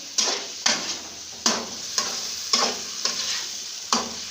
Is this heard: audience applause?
no